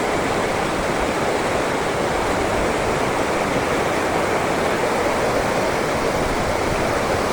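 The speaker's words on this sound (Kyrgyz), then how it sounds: "Чоң сайдын ичине суу кирип атат." A mudflow pours into a large ravine in the Tonsky district, heard as a loud, unbroken roar of rushing water that stays at full force from start to finish.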